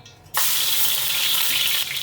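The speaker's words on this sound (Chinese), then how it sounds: "烧热后姜葱下锅。" A loud, steady sizzle of ginger and scallion hitting hot oil in a wok starts abruptly and continues unbroken, close by, with no talking.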